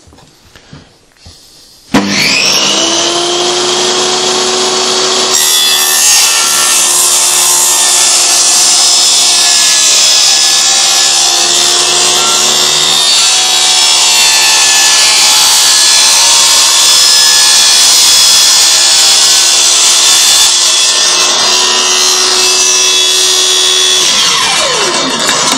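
A sheet of Perspex fed through a power saw over a zero-clearance insert gives a loud, steady, high-pitched whine and rasp. The cutting noise holds for about twenty seconds before the saw spins down.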